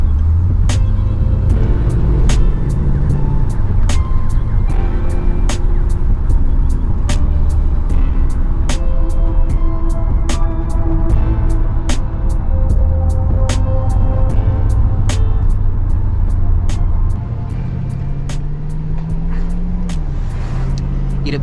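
A Chevrolet Lumina SS drives on a sunny afternoon, its engine note rising and falling with gear changes under steady road rumble, while regular ticking clicks run throughout and the level drops slightly near the end.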